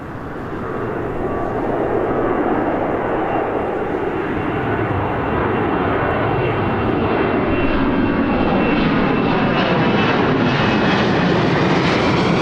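An aircraft arriving at Birmingham Airport roars steadily and loudly, its engine noise swelling and holding as it passes close overhead, with no voices.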